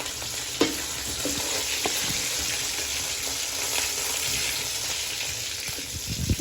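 Fish fry in hot oil during village-style cooking in Hatiya, a steady loud sizzle and crackle close up, with a couple of brief knocks as the pieces are handled, and no talking.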